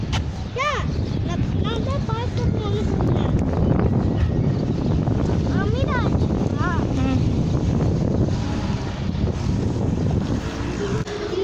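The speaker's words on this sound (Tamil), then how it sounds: "ஓரளவு காற்றும் அடிக்குது" Strong wind buffets the microphone outdoors, a loud continuous rumble and roar. People talk over it throughout, with some sharper sounds rising above it.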